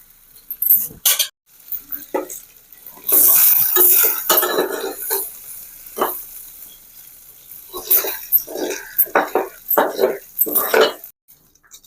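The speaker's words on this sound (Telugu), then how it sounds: "రొయ్యలు అయితే ఫ్రై అయినాయి కదండి, తీసి ప్లేట్లోకి తీసి పక్కన పెట్టుకుందాం" Metal utensils scrape and clink against a pan and plate as fried prawns are lifted out for an egg curry in a village kitchen, with faint sizzling and intermittent voices.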